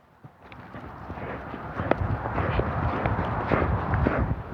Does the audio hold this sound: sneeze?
no